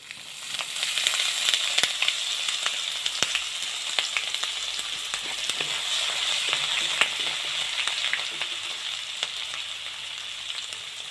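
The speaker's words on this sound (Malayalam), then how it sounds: "ഇതിലേക്ക് ചെറുതായിട്ട് അരിഞ്ഞിട്ടുള്ള ഇഞ്ചി ചേർത്ത് കൊടുക്കാം." Chopped ginger frying in hot oil with mustard seeds and urad dal for rava upma with chickpeas, a loud continuous sizzle dotted with sharp crackles and pops, close up with no voices.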